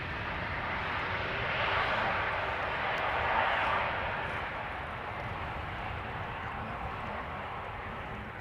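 A KLM airliner landing at Schiphol gives off a sustained jet roar that swells and fades over several seconds, fairly close and loud, with no voices over it.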